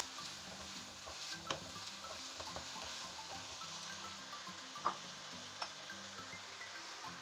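Chicken stirred in a pan with white pepper and chicken powder, a faint continuous sizzle broken by scattered light clicks and scrapes of a utensil, one sharper tap midway; no talking.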